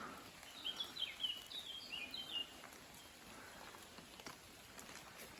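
Light rain falls in a forest, a faint, soft patter that goes on throughout, with a few bird calls early on and no one speaking.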